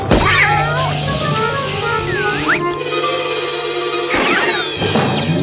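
A cartoon cat meows in several drawn-out, wavering cries over a steady musical hum and busy cartoon effects, with a louder burst of yowling near the end.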